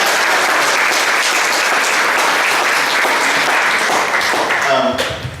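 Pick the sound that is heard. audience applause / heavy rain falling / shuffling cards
audience applause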